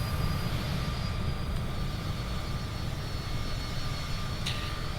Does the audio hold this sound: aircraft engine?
yes